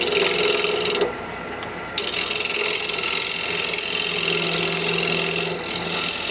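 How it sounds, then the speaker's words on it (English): A double-sided negative rake scraper trues the face of a glue block, giving a steady dry rasping scrape that runs almost continuously, with one brief pause, close and fairly loud. "I'm just going to use my double-sided negative rake scraper"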